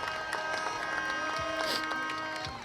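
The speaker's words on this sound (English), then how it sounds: "Round of applause, loud, loud," Applause and cheering rise from a crowd at a Fourth of July summer festival parade, a steady burst of clapping lasting a few seconds with a tonal background hum mixed in.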